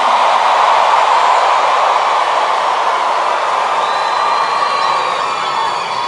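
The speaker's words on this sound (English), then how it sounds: "Clap for yourself right now" A church congregation claps and cheers at a sermon by Bishop David Abioye, a steady roar of applause and shouting that carries on unbroken for several seconds, loud and full throughout.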